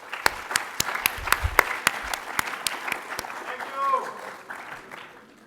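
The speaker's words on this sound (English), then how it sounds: "Can we please have a round of applause for our head boy?" Applause for the head boy at a post-16 graduation ceremony, starting with a few sharp, distinct claps that blend into a steady room-wide clapping, then fading as voices and cheers rise near the end.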